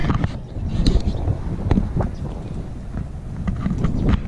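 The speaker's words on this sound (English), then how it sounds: "it is super windy out here" Strong wind buffets the microphone with a constant low roar and rumbling gusts, loud and close, no talking.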